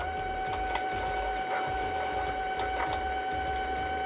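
A domestic sewing machine running fast while winding a bobbin, a steady mechanical whir with rapid rhythmic ticking and a constant high whine, close and alone with no talking.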